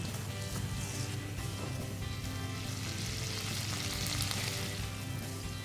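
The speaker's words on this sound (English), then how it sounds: "So when it's all melted and sizzling, you can add the baked butternut slices." Harissa paste sizzles in a hot pan for a butternut squash tatin, a continuous close crackling and hissing fry with no pauses.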